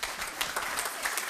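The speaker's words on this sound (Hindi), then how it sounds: "तालियां" An audience breaks into dense, sustained applause, many hands clapping together at an even level throughout the short burst.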